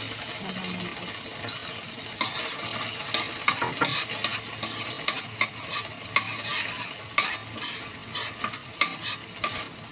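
Spicy Singapore laksa sauce sautés in a pan with a steady close sizzle. Stirring strokes scrape and clatter in an irregular rhythm, louder in the second half, and no one speaks.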